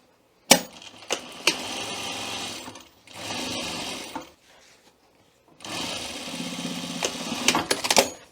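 A sewing machine stitches up one side seam of a welt pocket and then down the other, with three bursts of rapid, close mechanical chatter separated by short pauses.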